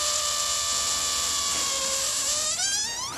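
A car starter motor makes a grinding, whining mechanical noise that holds steady, then climbs sharply in pitch near the end, with no talking.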